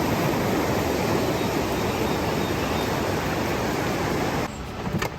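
A river rushes beside a hiking trail, a dense, steady wash of flowing water close by and loud, with a faint clatter of movement near the end.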